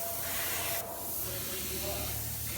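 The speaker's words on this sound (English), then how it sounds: "I'm using a gravity-fed 40 psi air-regulated sprayer." Gravity-fed sprayer regulated to 40 psi laying down KBS Clear Diamond Finish clear coat on a headlight, a steady close airy hiss that briefly drops out before resuming for the rest of the stretch.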